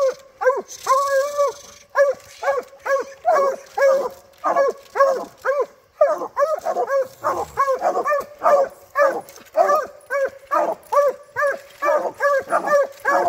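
Coonhounds bay in loud, rhythmic, drawn-out bawls that repeat almost every half second, several dogs overlapping close by.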